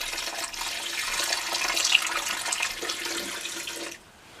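Warm water pouring from a kitchen tap for bread dough, a steady close hiss and splash that runs for about four seconds and then stops.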